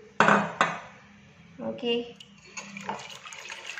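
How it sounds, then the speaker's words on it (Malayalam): Water splashes briefly into a bowl for egg pancake batter amid a few sharp clinks of dishes and utensils in a home kitchen, with a voice speaking a short word. "ഞാൻ രണ്ട് കപ്പ് വെള്ളം ഒഴിക്കുന്നുണ്ട്"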